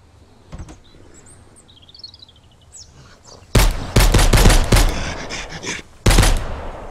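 Gunfire in the survival game Mist Survival, with a single sharp shot early, then a rapid burst of loud, closely spaced shots and another burst a moment later, birds chirping faintly in the quiet stretch between.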